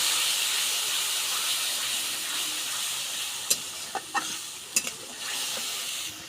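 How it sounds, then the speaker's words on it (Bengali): Spice paste of turmeric, chili powder, salt and a little water fries in a pan, giving a steady close hiss and sizzle, then a few sharp spatula taps and scrapes toward the end. "মশলাটা এখন আমরা ভালোভাবে আগে কষে নেব।"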